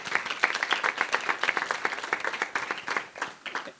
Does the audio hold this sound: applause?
yes